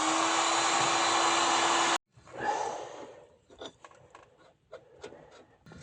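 A heat gun aimed at a stuck nut on an old hand-powered drill blows with a loud, steady roar for about two seconds, then cuts off abruptly, followed by scattered clanks, scrapes and handling noises.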